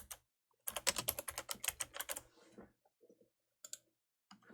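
Rapid bursts of typing on a computer keyboard, close and crisp, with a fast flurry of keystrokes followed by a few scattered, isolated taps and clicks in otherwise quiet surroundings.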